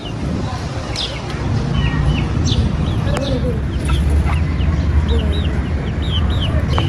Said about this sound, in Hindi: ये अंडों वाली मुर्गियाँ हैं।